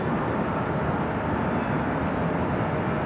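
Airliner taking off from runway 24 left at Los Angeles International Airport, a steady, loud broadband jet roar that holds constant throughout with no clear rise or fade.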